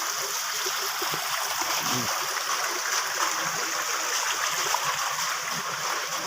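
A flowing stream rushes and splashes steadily nearby, a broad continuous wash of water with no pauses.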